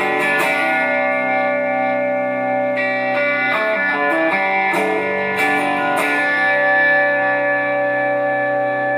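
A 1987 Alvarez electric guitar with crunch distortion played through a Crate amp with a Boss effect, sustained chords and picked notes ringing steadily and close, alone without talk.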